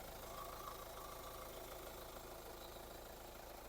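The diesel engine of a 2014 Hyundai ix35 idles at a low, even rumble with a faint rhythmic knock, steady and close throughout, no voices.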